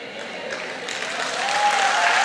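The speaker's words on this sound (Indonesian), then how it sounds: "Dibela langsung tepuk tangan." A church congregation breaks into steady applause during a sermon by a pastor, the clapping growing slightly louder toward the end, with no clear talk over it.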